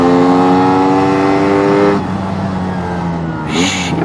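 A newly run-in two-stroke engine holds a high, strong rev with a buzzing harmonic whine, then drops off abruptly around the midpoint and briefly picks up again near the end, loud and close.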